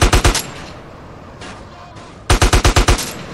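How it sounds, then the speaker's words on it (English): Gunfire in the video game GTA San Andreas comes as two sharp, rapid bursts of loud automatic shots at the start and end, with a quieter gap between them. "Who's shooting me?"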